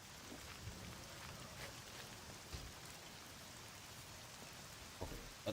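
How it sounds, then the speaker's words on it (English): Rain falls in the survival video game SCUM, a soft, faint steady patter with a few scattered louder drop hits. "Now it's raining."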